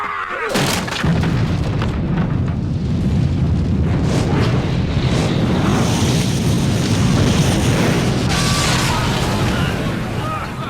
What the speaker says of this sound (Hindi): अगर किसी कमरे में आग लगी हो और अचानक से वहां हवा आ जाए तो उसमें एक जोर का धमाका होता है